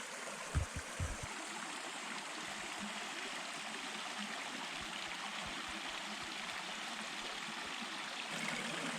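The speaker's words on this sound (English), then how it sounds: "I found a little babbling brook, and I think it's really cool" A small babbling brook on a hiking trail in McGee Creek State Park gives a steady, close rush and gurgle of running water, with a few low thumps near the start.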